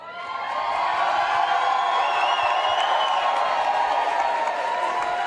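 A rowdy indoor crowd at a CrossFit Open announcement event cheers, whoops and applauds loudly and continuously, the noise swelling in the first second and then holding steady.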